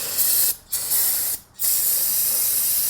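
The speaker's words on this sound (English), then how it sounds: "Brake cleaner, of course, spray all this oil back down off the engine." Brake cleaner blasts from an aerosol can onto an oily engine bay of a BMW E30, loud steady hiss broken by two short pauses, close up and alone.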